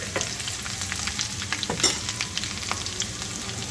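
Garlic and finely chopped green chillies sauté in oil over a low flame in a close, steady sizzle, broken by soft crackles and the clink of stirring, with no voices.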